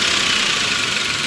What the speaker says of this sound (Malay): bila turun balik ke idle, memanglah nampak gegar itu